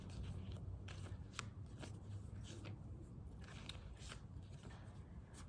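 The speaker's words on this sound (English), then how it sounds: "This is all about like how to shuffle the perfect card" Oracle cards being shuffled by hand, a steady papery riffling and rustling with soft crisp snaps repeating throughout, close and fairly quiet.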